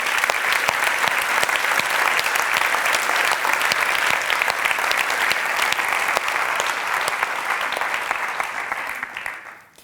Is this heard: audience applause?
yes